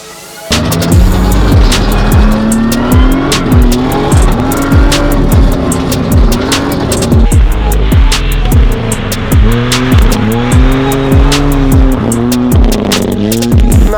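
A 370-horsepower Toyota GR Yaris drives and slides on a frozen lake, its engine revving loudly in repeated surges with sharp gear shifts and shifting pitch, close and continuous throughout.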